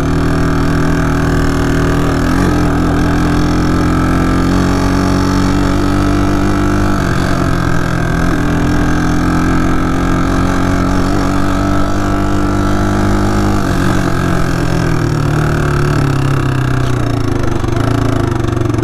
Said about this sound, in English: Which I don't really know if the carburetor is like supposed to sound like this.